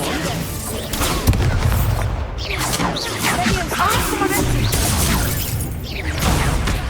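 Spell effects from the Hogwarts Legacy video game, with a continuous dense wash of magical whooshes, booms and crashing impacts under a voice casting a spell.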